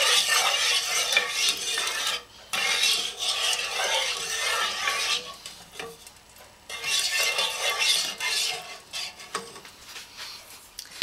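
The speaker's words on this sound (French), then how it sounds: "Donc il faut qu'on mélange tout au long du processus" A spoon scrapes and rasps steadily around a pan as sugar melts into syrup for baklava, coming in long, close stirring passes with brief pauses between them and no talking.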